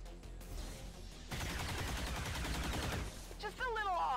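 Suppressing gunfire in the video game XCOM 2, a sustained rattling burst of automatic fire lasting a couple of seconds, followed by higher whining electronic effects.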